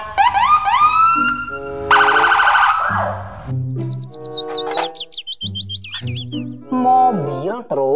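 A toy police car gives off a busy run of loud electronic siren sweeps, warbles and chirping tones in quick, shifting bursts for about eight seconds.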